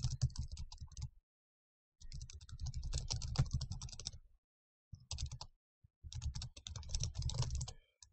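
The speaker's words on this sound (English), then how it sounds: "As I type, if you watch down in this area here" Rapid clicking of keys on a computer keyboard in several bursts of typing, separated by short silent pauses.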